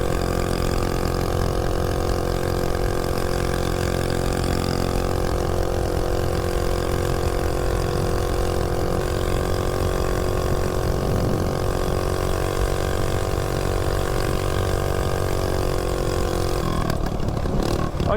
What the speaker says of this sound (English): let me go see what this thing will do for top speed first